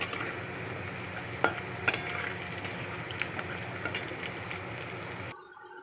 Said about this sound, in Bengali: ভাজি ভেজে তারপরে হচ্ছে কাবলি ছোলাটা দিয়ে সুন্দর করে কষাবো